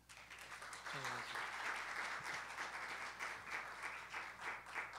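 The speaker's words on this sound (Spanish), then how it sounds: "Un aplauso." An audience applauds as a gastronomy speaker is introduced at a formal lecture hall event, the sustained, dense clapping filling the room at moderate level throughout.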